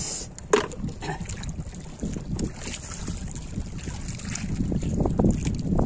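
A fisherman's boat motor passing on Laguna de Bay, a steady low drone blended with wind buffeting and water noise, with no voices over it.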